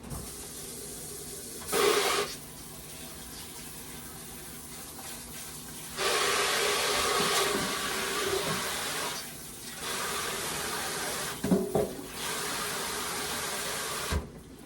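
A kitchen faucet runs water over food in a bowl, bursts of rushing and splashing flow coming and going in several stretches, close and steady with brief louder gushes.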